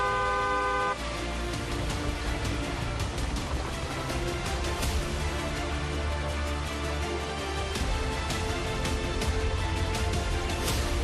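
A vehicle horn honks amid busy road traffic in Bihar, a sustained toot at the start followed by ongoing engine and street noise, fairly loud with no talking.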